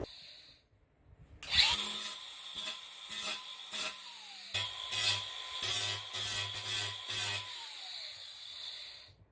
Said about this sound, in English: Grind all these rivets off.